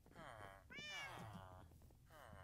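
A cat meowing in Minecraft, several close, clear tonal meows in a row, one louder and longer in the middle, over faint background game sound.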